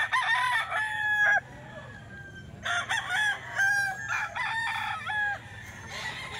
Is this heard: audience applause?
no